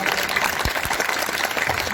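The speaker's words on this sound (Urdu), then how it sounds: "ایک زوردار تالیاں" A crowd at a Pakistani political and religious rally gives a short, dense round of applause to welcome a tribal leader, with steady clapping and no voices standing out.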